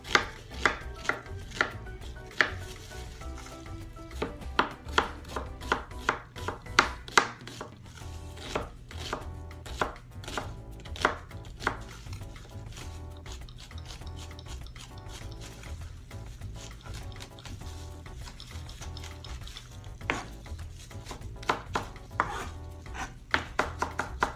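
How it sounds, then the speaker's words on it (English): Onion being cut with a knife on a board, a long run of close, crisp chopping taps, sometimes rapid and sometimes spaced, steady and fairly loud with no talking. "So I'm just going to cut a little bit of onion."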